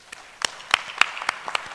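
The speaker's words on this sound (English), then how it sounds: "why don't you just give also applause to our distinguished speakers." Audience at a 2015 conference plenary session giving applause, heard as a light, scattered run of separate claps spaced a fraction of a second apart, fairly faint and without talk.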